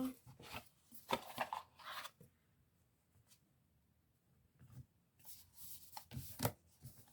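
Tarot-style cards handled and shuffled at close range, with bursts of riffling and sliding separated by a quiet pause in the middle before a final flurry of shuffling.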